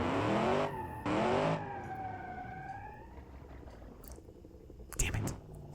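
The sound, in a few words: V8 drift truck wheel spin in BeamNG video game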